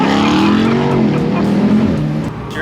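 A 707-horsepower pickup truck revs hard with its exhaust valve opened, a loud, continuous close-up engine roar that climbs and holds, alone without talk.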